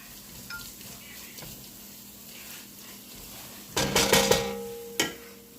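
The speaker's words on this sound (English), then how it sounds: "So I'm just going to stir this in all together." Food sizzles quietly in a hot pan as black pepper is stirred in, a soft frying hiss with faint scrapes, then a few sharp metallic clinks of utensil against pan near the end.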